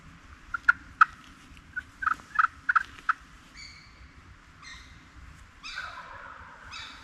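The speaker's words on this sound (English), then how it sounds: "that turkey was kind of up on the ridge a little ways" A wild turkey gobbles from up on a wooded ridge above a creek bottom in Kentucky, sounding distant and thin. Several sharp calls come in quick clusters over a faint outdoor hush, with softer bird notes after them.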